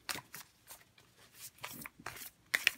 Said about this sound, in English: I'm going to shuffle a little bit as well as I hopefully can